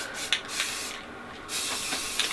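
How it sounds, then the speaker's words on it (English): An aerosol spray paint can hisses in bursts at close range, with a long steady spray in the middle and shorter puffs around it, against quiet surroundings. "you decide to do a project that involves spray paint"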